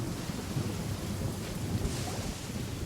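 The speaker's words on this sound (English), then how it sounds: "Stroll in the middle of a downpour." Heavy downpour with a thunderstorm in the Genshin Impact video game: dense, steady roar of rain with low rumbling, continuous and fairly loud, no voices.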